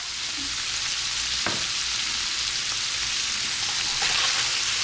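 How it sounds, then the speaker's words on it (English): Ground beef frying in a pan for a John Wayne casserole, chopped onion going in, gives a loud, dense, continuous sizzle with a single sharp clack midway, close up and without speech. "I'm gonna add the onion in there now"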